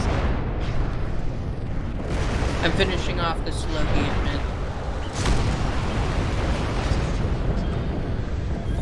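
Explosions rumble and burst repeatedly through a chaotic mech battle in the video game MechWarrior Living Legends, dense booms layered under a player talking over them.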